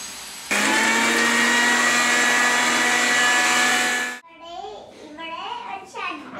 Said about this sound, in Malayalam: അരഞ്ഞിട്ടുള്ള വിനാഗിരി ഒഴിച്ച് അരക്കണം